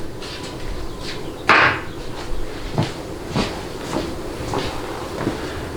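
Flat-blade screwdriver prying an old seal from a Ford AOD automatic transmission, with one sharp metallic pop followed by several softer scraping knocks, close up and without talk.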